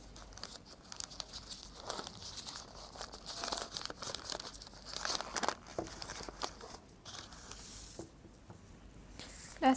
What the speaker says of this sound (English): Inside is the oil paper to wrap it up.